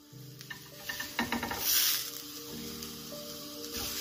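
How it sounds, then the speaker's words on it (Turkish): Mushrooms frying in a pan, with soft sizzling and occasional stirring clatter, close by and fairly quiet. "hemen tavada kızartıyorum."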